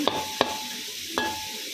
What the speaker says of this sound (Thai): นี่ทอดอยู่นะครับ มาถึงขั้นตอนวิธีทอดแมงกีนูนนะครับผม